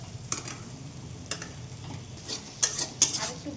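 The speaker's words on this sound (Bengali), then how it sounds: "আর একটু ভাজবো শুটকিটা ভালো করে মিশার জন্য।" Dried puti fish (shutki) fries in a pan with a soft steady sizzle while a utensil stirs it, scraping and clinking sharply against the metal a few times, close and fairly quiet.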